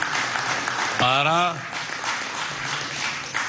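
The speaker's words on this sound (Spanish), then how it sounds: "de aquí le damos un aplauso" Applause rolls through the hall during a presidential broadcast, a steady wash of clapping under a voice that briefly speaks over it.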